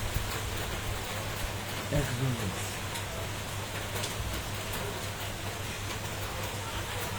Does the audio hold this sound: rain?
yes